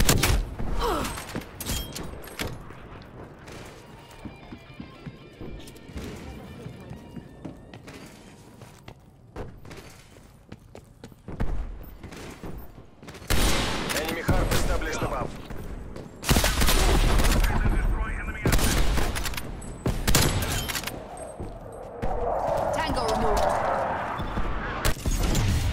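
Sniper rifle gunfire in Call of Duty: Black Ops Cold War, with loud sharp shots and heavy bursts scattered over a busy battle soundscape, some near and some distant, mixed with thuds and in-game voices talking.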